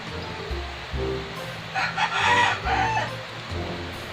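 A rooster crows nearby, loud and alone, with a couple of short clucks before a long drawn-out crow.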